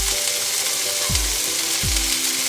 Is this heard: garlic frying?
yes